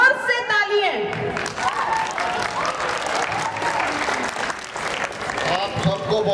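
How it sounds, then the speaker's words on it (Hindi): Loud, full crowd applause with some shouting at a jaimala garland ceremony during a National Jamboree celebration, voices and cheers mixed into steady clapping. "चलिए जोर से ताली है।"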